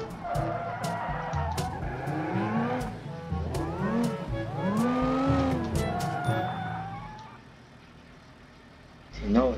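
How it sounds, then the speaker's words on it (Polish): Tires squealing and skidding on a Soliad Lansdale minivan in BeamNG.drive, rising and falling in long screeching sweeps with engine noise beneath and sharp clicks throughout, easing off before a brief loud burst at the end. "Jeszcze nie słuchałem tych nowych dźwięków opon."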